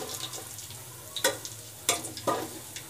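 Cinnamon, star anise and bay leaf fry in hot oil in a pot, a steady sizzle broken by a few sharp scraping stirs near the end.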